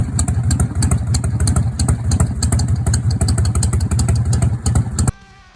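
A Harley-Davidson Shovelhead motorcycle engine with a freshly tuned carburettor runs steadily at close range, a loud, lumpy, even thumping pulse that continues for about five seconds before cutting off abruptly.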